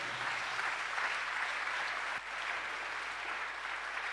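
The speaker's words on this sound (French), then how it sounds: "Acclame Jésus." A church congregation applauding together, a dense, steady wash of clapping that carries on without a break and sounds fairly close.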